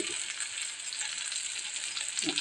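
Tomato and onion fry with ginger in a pan, giving a steady, close, even sizzle that holds through the whole stretch with no voices, and a brief stir near the end.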